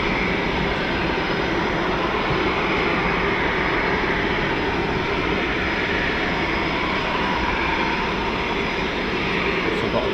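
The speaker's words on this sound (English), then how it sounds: "So I've got a Typhoon taxiing." A Eurofighter Typhoon jet taxis at RAF Fairford during an air show, giving a loud, constant broadband roar and whine that holds steady throughout.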